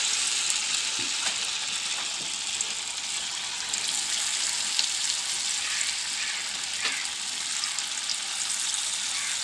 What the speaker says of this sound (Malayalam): എണ്ണ അടുപ്പത്ത് വെച്ചു, ചൂടായി. അപ്പോൾ നമുക്കിതിൽ പിച്ചിടാം.